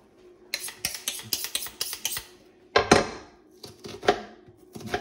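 Onions chopped finely with a knife on a board while making homemade blood sausage: a quick run of sharp, close, even taps, a short pause, then a few more scattered cuts, with no talking.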